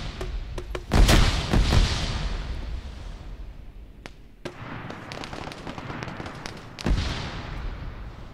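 Gunfire from a Promet 6.5mm rifle in Arma 3, a loud burst of close shots followed by scattered single cracks and a later loud report over a steady outdoor battle ambience, with no talk.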